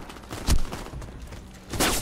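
Gunfire bursts in the online shooter Warface, with two loud rapid volleys about a second apart over a continuous noisy game background.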